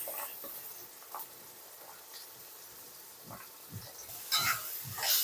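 Pumpkin pieces dropped into a pan of hot oil with turmeric and green chilli paste give off a low, steady sizzle with scattered pops and a brief louder burst near the end, with no talking.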